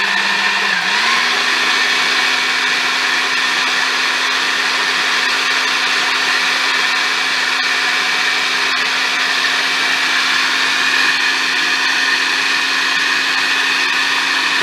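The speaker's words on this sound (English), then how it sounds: "you put it in this blender, and then you blend it together." An electric kitchen blender whizzes a mixture until smooth, running as a loud, steady motor whine with a constant hum that holds unbroken from start to finish, with no talk over it.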